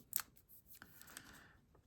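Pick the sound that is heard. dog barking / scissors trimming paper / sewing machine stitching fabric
scissors trimming paper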